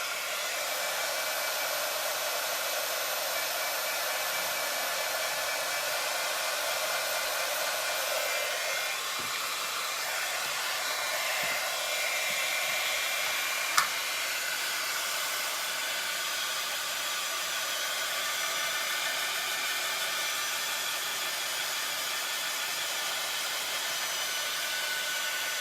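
Heat tool blowing steadily to dry black paint beside a stencil, a loud, continuous airy rush with constant fan hum and no pauses, plus one brief tick midway.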